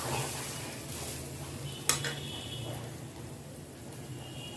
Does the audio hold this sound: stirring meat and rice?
yes